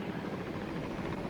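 Helicopter in flight in the ArmA 3 military video game: a steady, dense rotor and engine roar, continuous and moderately loud, with no talk.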